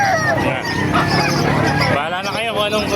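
Chickens at a poultry market in Calumpit, Bulacan, clucking and crowing amid a dog's barking, close and busy, with people talking over the birds.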